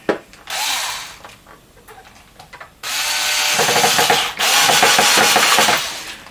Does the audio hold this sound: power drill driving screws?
yes